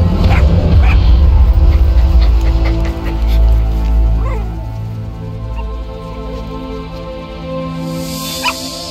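A puppy in the Metal Gear Solid V: The Phantom Pain video game whimpers and yips in short, high, repeated cries, loud and close over a low rumbling background that fades slightly midway.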